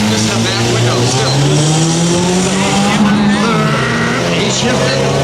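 Race cars run side by side through a turn at Beech Ridge, engines roaring loudly and steadily with a rising and falling pitch, under an announcer's commentary.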